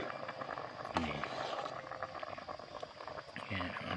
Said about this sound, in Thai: เดือดปุดๆแล้วนะครับ